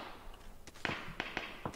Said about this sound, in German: links auch Schüsse irgendwo.